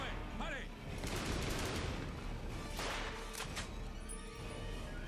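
Gunfire from a weapon in the video game Hour of Victory, with a few sharp shots and bursts standing out over a dense, noisy battle mix, with talk mixed in.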